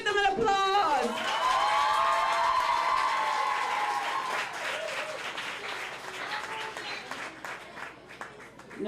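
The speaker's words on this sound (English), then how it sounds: "Give them an applause." A school audience applauds and cheers the winning high school debate team at a World Wetlands Day debating competition, with dense sustained clapping and a few whoops after a brief announcement voice, fading slightly toward the end.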